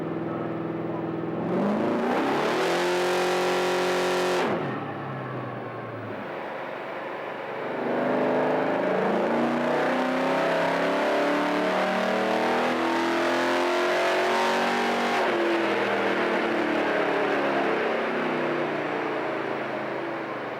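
A 1956 Chevy's engine revs hard on a dyno at a workshop dyno day, rising and falling in loud sustained bursts with a brief lull mid-way, while people talk nearby.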